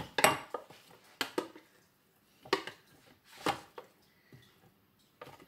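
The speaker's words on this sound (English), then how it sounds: "Now I will transfer it to the bowl." Hummus is scooped into a bowl with a utensil, giving a handful of separate clinks and soft scraping knocks against the dishes, fairly close with pauses between them.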